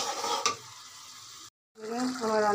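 Beans and tomatoes stirred in a pan for a dried-fish curry, a soft scraping and sizzling close by, cut by a brief silent gap before the stirring resumes louder.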